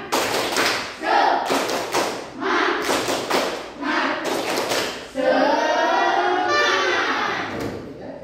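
Children's voices chant a rhythmic 'tepuk semangat' spirit clap in a classroom, with sharp hand claps and thumps falling in short, repeated bursts and a louder closing cheer near the end.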